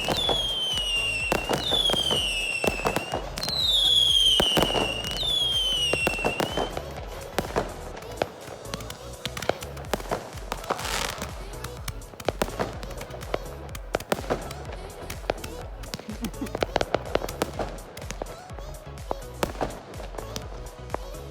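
Canada Day fireworks whistle and crackle in a dense, continuous barrage of pops and bangs, with shrill rising whistles early on.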